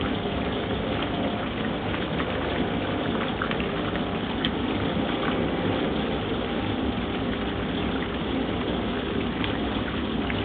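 A 1971 Australian Simpson Fluid Drive washing machine agitates on its fast cycle, giving a steady, dense sloshing wash of water that stays close and continuous throughout, with no speech.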